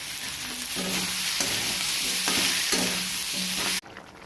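Potatoes frying in a pan with onion, garlic, tomato and spices give a steady, loud sizzle, broken by rhythmic scraping strokes of a spatula, then the sound cuts off abruptly near the end.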